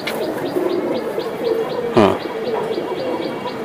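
Silver Giribaz pigeons coo and chirp close by in a series of short repeated calls, with one louder, sharper call standing out in the middle.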